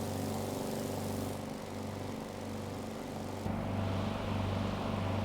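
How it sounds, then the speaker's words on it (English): GeeBee R2 racing aircraft in a flight simulator, radial engine at full throttle: a loud, steady droning roar with a strong low hum and a brief shift in tone midway, with no voices. "Wow, listen to that. We're at max chat on the engine."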